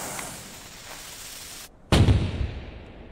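A cannon blast rings out after a brief silence, one loud, close boom with a rough decaying rumble, following a steady background hiss.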